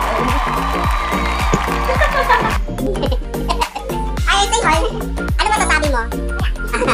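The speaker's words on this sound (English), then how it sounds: "A round of applause" A lively audience bursts into cheering, whoops and clapping at a Q&A event in Cebu City, loud and continuous with shouts and excited voices over sharp rhythmic claps.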